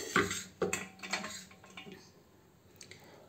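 Metal kitchenware clatters and clinks in a few sharp knocks close by as a pressure cooker is handled, then quieter handling taps trail off.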